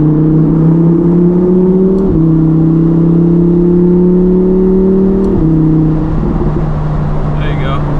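A Lamborghini engine, driven in manual mode on a winter road, drones steadily and loudly at close range, its pitch climbing through two gear shifts and dropping at each change, with a light chirp near the end.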